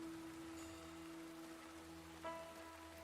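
Quiet, steady rain falls on a courtyard, a soft continuous patter at a distance with a faint steady tone underneath and one small knock partway through.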